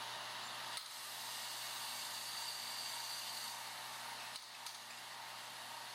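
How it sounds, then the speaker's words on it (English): Coffee roaster running while roasting green coffee beans, a steady airy mechanical roar that stays even throughout, broken by a couple of brief clicks or knocks. "watch him dump the green coffee beans into the roaster"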